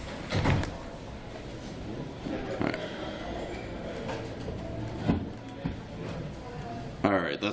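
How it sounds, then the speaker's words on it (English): Doors being shut in a meeting room: several soft thuds and bumps spread across the clip under steady background chatter, ending with a louder rattling close. "Actually, it'd be great to close the doors."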